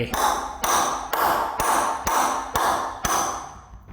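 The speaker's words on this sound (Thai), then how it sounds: "วางครอบหัวตะปูไว้ แล้วใช้ค้อนตอกลงไป" Hammer blows driving a DeWalt nail puller's round cup down over a sunken nail head in wood, seven sharp metallic strikes at an even, steady pace, close and loud with ringing tails.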